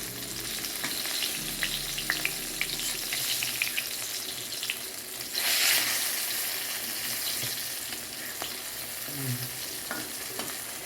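Brinjal (eggplant) slices fry in hot oil with a steady, close sizzle that runs the whole time, broken by a few light stirring clicks and a brief louder burst of crackle partway through.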